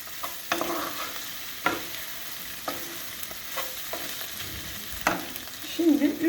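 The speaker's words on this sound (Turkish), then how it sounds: "Bir tatlı kaşığı da tuzumu ilave ediyorum. Karıştırıyorum." Spoon stirring red pepper flakes, black pepper and salt into pepper paste in a pan, with soft scraping strokes and a light sizzle in the background, fairly close and without talk.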